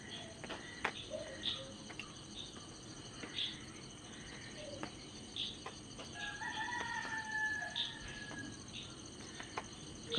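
At dawn a rooster crows several times from a distance over a steady bed of crickets and insects. Faint clucks and other bird calls come from the surroundings, and the whole scene is quiet.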